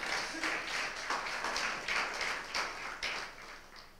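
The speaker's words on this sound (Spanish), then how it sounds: "Denle un aplauso al Señor" A church congregation applauding at a home worship service, a steady wash of many hands clapping, fairly faint and distant, continuing for a few seconds without talk over it.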